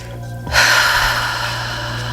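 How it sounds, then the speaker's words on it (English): A single deep breath: a quiet start, then a loud, breathy rush of air that tails off slowly into a long exhale, with steady low hum behind it. "A longer exhale than an inhale."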